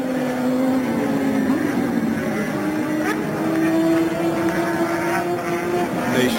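A Norton racing motorcycle at the 1950 Isle of Man TT holds a steady, droning engine note whose pitch rises and falls gently, with wind rush over the whole stretch.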